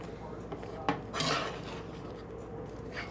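Sausage being stirred into gravy in a pan with a spoon for biscuits and gravy: a soft clack and a brief scraping swish sit over a quiet sizzling background.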